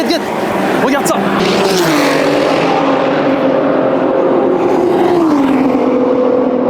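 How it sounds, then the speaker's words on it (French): Porsche GT3 Cup race car engine running steadily and loud, its pitch sliding down and settling in sustained tones, with a brief sharp burst near the start and voices talking over it. "Il y a une GT3 Cup qui tourne. Elle fait un bruit, les mecs."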